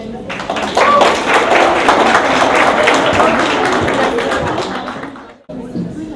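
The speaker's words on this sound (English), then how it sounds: "One more round of applause for the gentlemen" A student event audience claps for speakers in a full, steady burst of applause lasting about five seconds, ending in a sudden drop, with some voices at the close.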